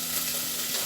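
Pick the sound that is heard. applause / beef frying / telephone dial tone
beef frying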